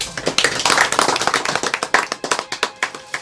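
Hand clapping at an award ceremony: a quick, steady series of sharp claps, close and fairly loud, with the rhythm growing more evenly spaced toward the end.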